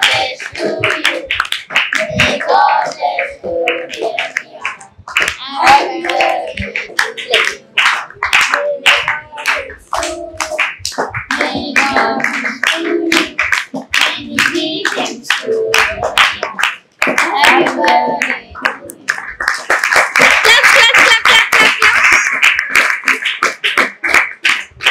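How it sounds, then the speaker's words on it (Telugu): Guests clap in rhythm at a birthday celebration held at a care home, with steady close handclaps, speaking voices mixed in, and a louder burst of clapping near the end. "claps, claps lucky, clap,"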